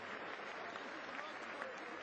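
Sustained applause for the president as he enters a joint session of the US Congress in Washington, D.C.: a dense, steady wash of clapping from a large chamber crowd that holds evenly throughout, with faint voices mixed in.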